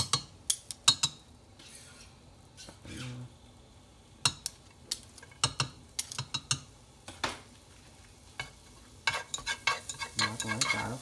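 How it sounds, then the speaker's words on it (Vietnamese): Garlic stir-frying in hot oil in a pan, a steady sizzle under repeated scraping and clinking of a spatula against the pan, close and busy, with no talking. "Bỏ tỏi xào nó khoảng mấy giây cho nó nóng trên tỏi lên đấy"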